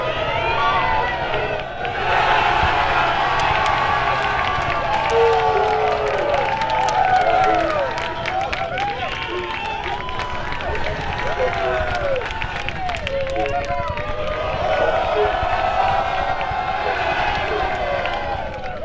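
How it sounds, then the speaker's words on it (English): A crowd at a university rowing regatta at the National Water Sports Centre cheers and shouts in sustained waves, loud and fairly close, with whoops swelling and fading across the stretch. "if you can hear some loud cheering coming over the speakers here from our cameras at the National Water Sports Centre"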